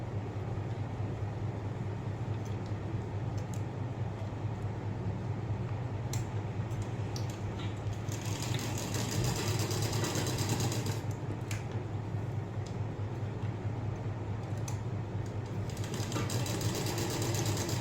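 A sewing machine stitches a blouse in a tailoring workshop, giving a steady mechanical hum with light ticking and creaking that runs the whole time and grows a little busier partway through.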